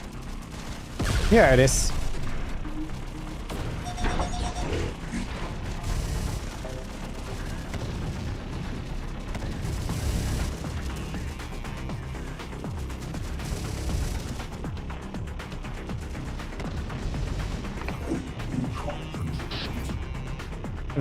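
Units in a Vampire Counts battle with the SFO mod trade continuous fire, a dense volley of shots and crashes with a loud burst early on, then steady rumbling gunfire throughout while a voice talks over it.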